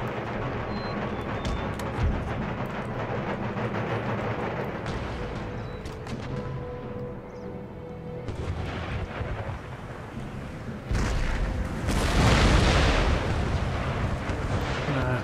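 Mortar and artillery fire in the Empire: Total War strategy game, a continuous rumble of distant booms and cannon reports building to a heavy, loud barrage of blasts near the end, with no talking.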